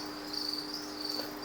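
Crickets chirping inside a breeding box, a faint continuous high trill with slight pulsing, heard alone.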